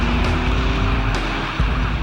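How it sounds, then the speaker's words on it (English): A police cruiser accelerates away during a car chase, its engine roaring loud and close with a brief squeal of tires, all heavy low rumble and no voices. "the other car hoons off in completely the wrong direction"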